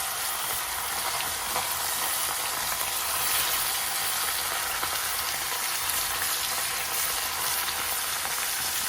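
Fish pieces fry in hot coconut oil, giving a loud, steady, dense sizzle that runs unbroken throughout with no talking.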